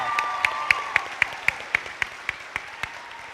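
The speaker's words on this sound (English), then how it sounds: "So everybody give her a round of applause." Audience at a morning performance claps for Jessica Nelson in a steady, evenly spaced rhythm of about a dozen crisp claps, moderately loud over a quiet room.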